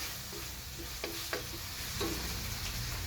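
Potato cubes frying in a pan for Filipino igado, a steady broadband sizzle with a few light scrapes and clinks of stirring, close and even.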